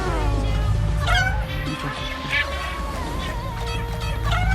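A cat character in the mobile game Crossy Road gives repeated short meows over a steady backdrop of game music and effects, fairly close and moderately loud.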